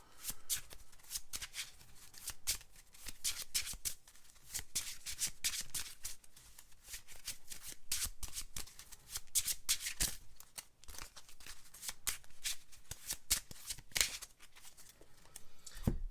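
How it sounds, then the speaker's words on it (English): Repeated riffling and flicking of a Legendary Encounters Alien card deck being shuffled, crisp bursts in a steady rhythm, close and quiet with no voices. "and I need to shuffle."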